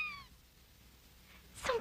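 A small kitten gives a brief high meow at the start, then quiet, followed by a louder, sharper mew at the end, close and alone.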